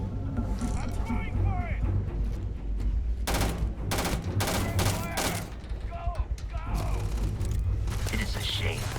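Gunfire in a space-exploration video game: clusters of rapid automatic shots crackle in bursts over a low rumbling background, with voices talking in between.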